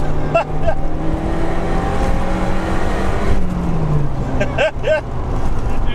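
A Lotus sports car climbing a steep, newly paved hill, engine droning steadily and loud up close, pitch sliding down as it shifts into second gear, with faint voices in the cabin.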